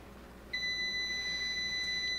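Multimeter continuity test on the pins of an AC relay, a single steady high-pitched beep starting abruptly and holding for about a second and a half, close and clear.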